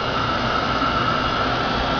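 A heat gun drying paint blows with a constant loud whirring roar of hot air, steady and close, with no pauses.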